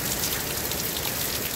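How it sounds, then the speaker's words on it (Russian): Heavy, wind-driven slanting rain from Hurricane Milton pours down in a loud, dense, unbroken roar of drops striking the ground, with no voices. "Мне хотелось бы показать вам, как косые линии дождя сейчас льются на землю."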